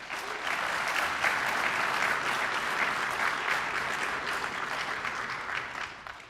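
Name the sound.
round of applause for senior players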